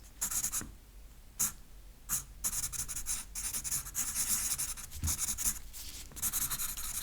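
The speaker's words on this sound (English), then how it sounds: "Hold it there while I write down some notes." Pen writing notes on paper in a soft-spoken role-play medical exam setting, steady scratchy strokes in bursts with brief pauses, close and fairly quiet, no talking.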